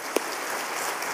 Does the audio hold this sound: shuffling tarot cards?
no